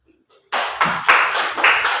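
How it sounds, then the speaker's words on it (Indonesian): A classroom of students claps together after hearing test results, a short burst of close, rhythmic hand claps beginning abruptly after a brief quiet and continuing in several quick pulses. "tepuk tangan semuanya"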